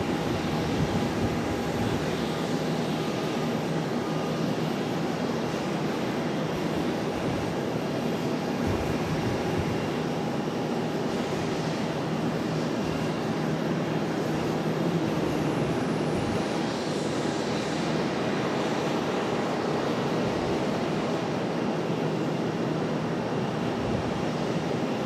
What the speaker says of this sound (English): Contour Airlines, that ERJ 140 coming across here. Getting ready for departure.